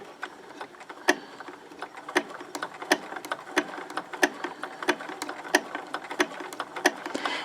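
A sewing machine stitches fusible appliqué onto fabric with the top thread tension lowered, producing a close, quick series of regular mechanical clicks and taps with slight pauses as the piece is turned.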